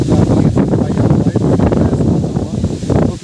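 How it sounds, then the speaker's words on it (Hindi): Wind blows across an open farm field lined with eucalyptus trees, buffeting the microphone with loud, low gusty rumbling that rises and falls throughout. "इतनी अच्छी हवा चल रही है"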